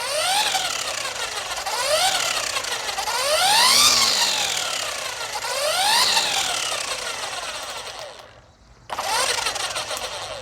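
A Ryobi 18V brushless string trimmer spins up and winds down in repeated rising and falling whines, loud and close, before cutting out briefly and restarting.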